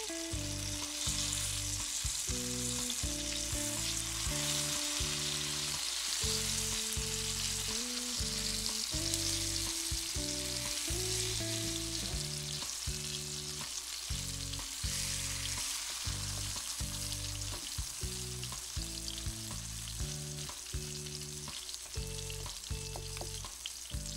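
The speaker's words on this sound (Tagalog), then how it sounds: "okay lang akong mag-prito ng itlog." An egg omelette sizzles steadily in a frying pan, a close, continuous crackling fry lasting over twenty seconds, with faint background music playing underneath and no talking.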